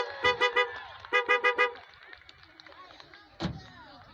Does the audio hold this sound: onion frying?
no